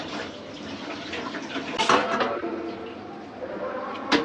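Running water splashing as cow tripe is washed, a steady close pour with clattering and sloshing bursts and faint voices in the background.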